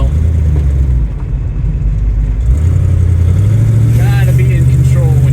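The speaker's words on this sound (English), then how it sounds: "Listen to that engine tone." An old DeTomaso Longchamp climbs a hill with its engine accelerating, a loud continuous drone that rises in pitch partway through, as someone talks over it.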